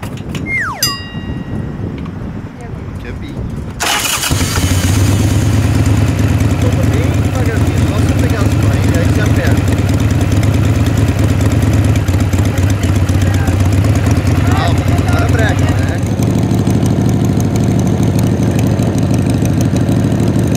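A motorcycle engine idles steadily and loudly from about four seconds in, a continuous low rumble that lasts to the end, while someone learns to ride.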